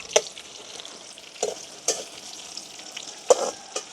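Jackfruit seeds, plantain and buttermilk chillies sizzle as they fry in a pan at home, a steady close crackle broken by occasional sharp stirring scrapes, with no talk.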